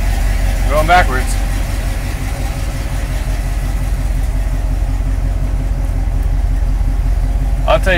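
A 1979 Chevrolet Camaro engine runs at a low, steady idle while the car backs up, with brief squeaks near the start and end and voices talking over the rumble.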